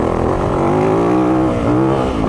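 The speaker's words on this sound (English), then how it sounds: "Look at that bike just lofting that front wheel up. Just roll on that power." A 2023 Yamaha YZ450FX dirt bike rolls on the power and lofts its front wheel, the engine climbing in a loud, sustained rising drone that holds up close throughout, with no voices.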